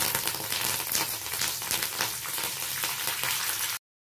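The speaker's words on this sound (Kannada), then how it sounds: "ಹಾಗೆ ಸಾಸಿವೆ ಜೊತೆಗೆ ಸ್ವಲ್ಪ ಒಣಮೆಣಸು, ಇದಕ್ಕೆ ಸ್ವಲ್ಪ ಕರಿಬೇವು." Mustard seeds, dried red chilli and curry leaves sizzle and crackle in hot oil for a tempering, a dense steady frying hiss with sharp pops throughout, close and loud, ending abruptly.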